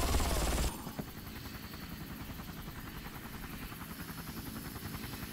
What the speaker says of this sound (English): I hear helicopter, but I don't see it.